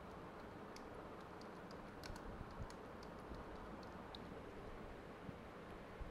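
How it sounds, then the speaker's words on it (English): Typing on a computer keyboard during Photoshop editing comes through as light, irregular key clicks, faint and close, over a steady background hiss, with no talking. "suppose and then same name I'm typing"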